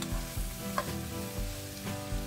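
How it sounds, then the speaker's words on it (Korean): Shiitake mushrooms and shrimp stir-fry in a pan over medium-low heat with garlic, giving a steady close sizzle broken by a few soft scrapes and stirs, with no voices. "촉촉하게 볶아줍니다."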